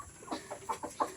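Chickens clucking softly in a farmyard during feeding, a quick run of short, faint calls in close succession.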